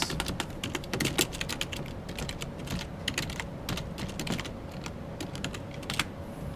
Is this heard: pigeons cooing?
no